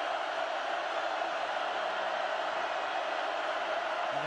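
Oregon Ducks fans fill a college football stadium in a 2009 game against Purdue with a broad, steady roar that stays constant and distant-sounding throughout, with no single voice standing out.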